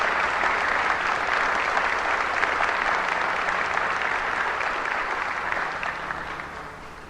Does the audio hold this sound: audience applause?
yes